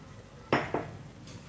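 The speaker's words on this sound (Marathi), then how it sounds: "आता त्याला मी हलवून घेत आहे इलायची टाकून." A spoon scraping and knocking in a pan of carrot halwa mixed with cardamom paste, two close metallic clinks in quick succession and then a fainter stroke.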